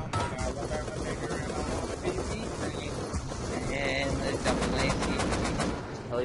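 Sustained automatic gunfire from several players shooting at an attack helicopter during a large base raid in the game Rust, with dense, continuous bursts and voices talking underneath.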